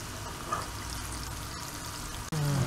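Wheat seedai dough balls frying in hot oil, a steady close sizzle and crackle that continues throughout, briefly interrupted near the end by a clatter.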